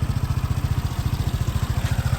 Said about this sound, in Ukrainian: Мотор працює ідеально, техніка дуже надійна